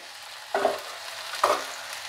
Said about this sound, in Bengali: সুন্দর ভাজা ভাজা হয়ে গেছে, তেল ছাড়ছে।